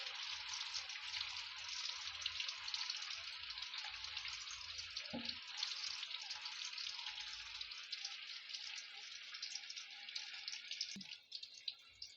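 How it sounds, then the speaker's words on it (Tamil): Seer fish deep frying in oil in a large kadai makes a soft, continuous crackling sizzle that stays steady throughout at low volume, with a couple of faint knocks and no talk. "பாருங்கள், இப்போ இது நல்லா பொரிஞ்சு வந்திருக்கு."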